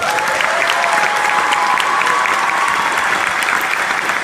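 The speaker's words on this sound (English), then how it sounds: "this would be a good time to give them an applause" An audience at a December 2014 youth academy commencement breaks into loud, sustained applause, a dense unbroken wash of clapping from a large crowd that fills the whole stretch.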